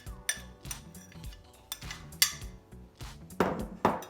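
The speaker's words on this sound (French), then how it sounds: "et on mélange bien." Grated cheese being stirred into a potato and chicken mixture for a Tunisian tajine, with a utensil clinking and scraping against a bowl in several distinct knocks, close and fairly loud, with no talking.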